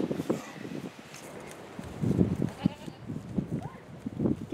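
Goats bleating on a farm as they are herded out of a pen, several rising calls in bursts, fairly close, with faint rustling between and no talk.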